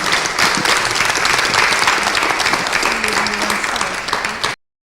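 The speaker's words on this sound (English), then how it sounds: "Round of applause, please." Loud, steady applause from an audience fills the clip, then cuts off sharply.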